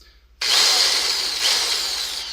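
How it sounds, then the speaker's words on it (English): A power drill spins up suddenly and runs at a steady high whine as it reams the primer pockets of brass cartridge cases, close and loud with no talking. "you can actually process quite a few cases an hour doing it with a drill versus doing it by hand"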